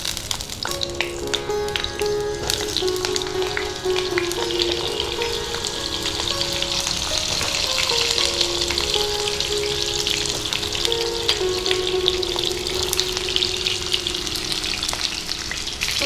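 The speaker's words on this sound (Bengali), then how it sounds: "ধোয়া উঠতে শুরু করেছে, তেলটা গরম হয়ে গেছে। এবার পটলগুলো ছেড়ে দিচ্ছি।" Pieces of pointed gourd (potol) sizzling in smoking-hot oil, a dense continuous crackle and hiss, loud and close, lasting the whole stretch with no voices.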